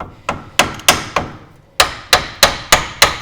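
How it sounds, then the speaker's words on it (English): A brass hammer taps a steel steering arm on an 80 Series Land Cruiser knuckle in a steady series of sharp, ringing strikes, about ten blows with a brief pause midway, close and loud. "I'll just take a brass hammer"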